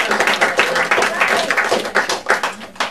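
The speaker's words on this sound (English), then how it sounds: "Let's give a round of applause here for the Teapots Cafe." An audience at the Teapots Cafe clapping in a short, uneven burst of applause, close and fairly loud, with scattered individual claps and a bit of talk underneath.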